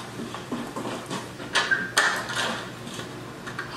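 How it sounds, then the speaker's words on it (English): A dog pants rapidly and rhythmically close by, the breathing growing louder over a few seconds against steady outdoor background noise. "Oh my god, the dog's charging at me."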